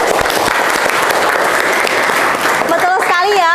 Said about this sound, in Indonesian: terima kasih banyak Bu Grima, berikan tepuk tangan.